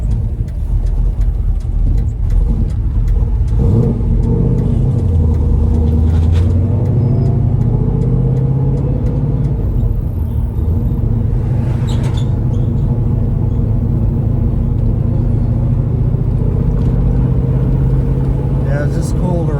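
An old muscle car engine rumbles steadily and loudly throughout, a deep low drone that swells and shifts in pitch, with people talking over it.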